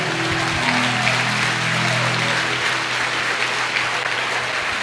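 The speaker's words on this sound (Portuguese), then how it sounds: "aplauda Ele com toda a força." A church congregation applauds during a sermon, steady dense clapping that fills the clip from start to finish, with a low sustained tone from a keyboard or organ underneath.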